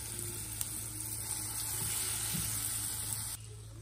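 A tempering sizzles and fries in a pan for mango coconut pickle, a steady close crackling hiss throughout with faint stirring, dropping slightly in level near the end.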